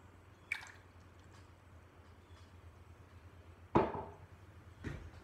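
A watercolor brush is dipped and swished in water, giving a few faint, separate wet taps and swishes over quiet room tone.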